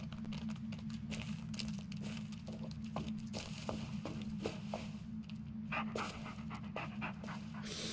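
A dog pants steadily and rapidly throughout, with faint crinkling and small rustles layered over a constant low rumble, in the Blair Witch video game.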